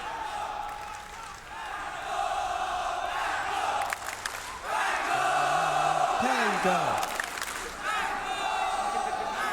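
An esports arena crowd at an ESL One Mumbai 2019 Dota 2 match between Keen Gaming and The Pango cheers, whoops and roars loudly and continuously, building after a brief dip, while a caster talks excitedly over it.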